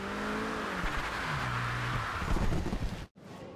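Racing-game car engine from Forza Horizon 2, over-tuned with too much horsepower in rainy conditions, revving and shifting pitch with broadband tire and road roar, loud and continuous, then cutting out abruptly near the end before resuming.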